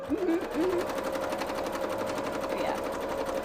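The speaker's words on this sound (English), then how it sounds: "Oh yeah, we're sewing." Sewing machine stitching fabric for cosplay, a fast, even rhythmic whirr running continuously at moderate level, with faint voices briefly over it near the start.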